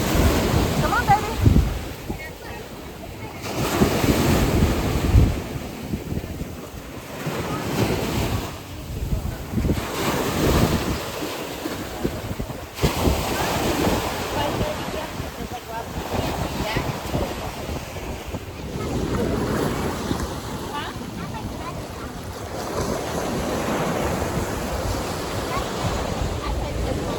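Ocean waves surge and break on a beach at Rose Island in the Bahamas, a steady rushing wash with wind buffeting the microphone throughout.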